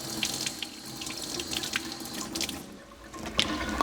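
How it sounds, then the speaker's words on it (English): Hot water sprays out CanCoat coating residue from a bottle and cap, a steady hissing rush of running water splashing into a sink, alone and close. "I'm going to use some hot water and I'm going to spray out the residue of CanCoat."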